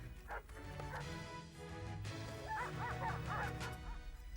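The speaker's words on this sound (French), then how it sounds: "J'entends les chiens." Faint dogs bark and yelp in the distance, a string of short yips rising over a low background rumble.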